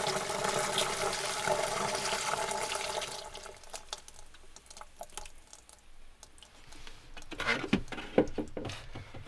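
Iron-removal solution pours into a water softener brine well with a steady liquid gush for several seconds, then scattered drips, splashes and handling clatter close by.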